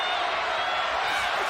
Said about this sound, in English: People are cheering whenever Loma does anything